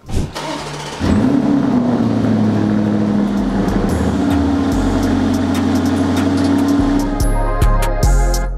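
A Lamborghini Urus Performante engine starts and settles into a loud, steady idle, then revs as the SUV pulls away, with a thump near the end.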